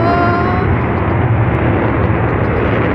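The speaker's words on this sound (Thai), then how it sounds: "เสียงเครื่องบินค่ะ เครื่องบินทหารค่ะ" A military aircraft flies overhead, a loud continuous broadband roar that fills the whole stretch without letup, heard outdoors near ducks.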